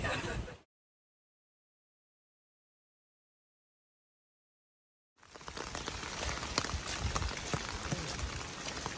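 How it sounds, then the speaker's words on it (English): Rain falls on a hiking trail on the Pin-Chin-Sky Loop in awful weather. A short burst is followed by a silent gap, then a close, dense, steady hiss of rainfall. "We're about to get back in the rain"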